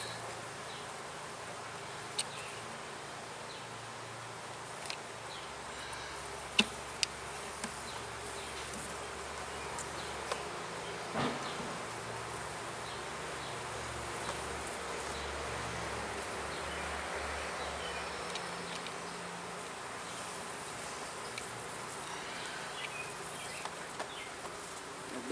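Honeybees droning steadily around an open beehive outdoors, a soft continuous hum with occasional closer buzzes and faint handling clicks.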